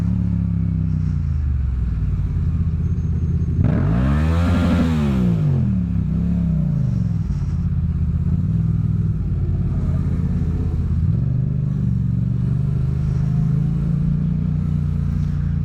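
Motorcycles rumble and rev at a bike meet, one engine sweeping loudly up and down in pitch as it passes close by, with other idling and revving bikes around in a continuous loud roar.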